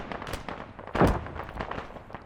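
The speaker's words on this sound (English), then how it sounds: "I'm seeing those shots going in between those two buildings" Arma 3 gunfire in an urban firefight, shots ringing between two buildings: scattered sharp cracks at moderate distance, with one louder, heavier report standing out near the middle of the burst.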